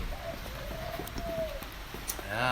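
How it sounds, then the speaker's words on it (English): Soft, low cooing from birds drifts through a noisy background, with a faint voice starting up near the end. "You can hear some of my birds there."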